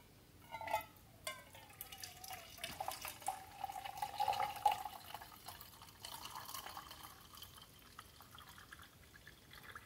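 Collected condensate water from a wood gasifier generator is tipped into a container, a faint trickle with scattered drips and small splashes that fade out over several seconds, no talk.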